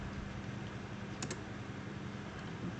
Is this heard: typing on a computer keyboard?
yes